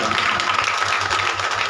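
An audience at a Krishna birth story gathering claps steadily to welcome a local councillor. The applause is continuous and fairly loud throughout the short stretch.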